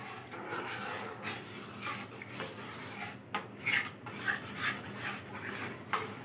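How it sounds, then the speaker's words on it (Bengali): Milk powder being stirred into milk in a pot with a spoon, close scraping and clinking against the metal in an uneven rhythm, with no talking, for sweet khoa making. "দুধটা দিয়ে ভালো করে আমি নেড়ে নেব যাতে দুধটা ভালো করে গলে যায়"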